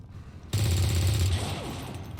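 A turret is fired on with a sustained automatic burst in XCOM 2; after half a second of quiet it starts loud, holds steady for about a second, then trails off into a dense rattle with no talking.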